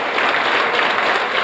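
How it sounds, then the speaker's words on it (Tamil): An audience claps loudly for a judge at a Tamil festival debate, a dense, continuous burst of applause that fills the short moment without pause. "ஒரு பெரிய கைத்தட்டு கொடுத்து நீங்க பாராட்டலாம்"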